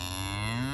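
A cow on a farm gives a steady, drawn-out low moo, close and clear, with no voices over it.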